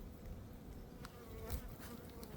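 Honey bees buzz around an open hive at an apiary in March, a soft, continuous hum with a few brief, louder passes as individual bees fly close.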